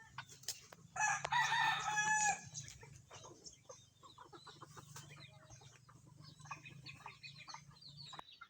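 Young stag roosters crow loudly in one long call, then keep clucking and calling at a moderate distance over a steady low farmyard hum.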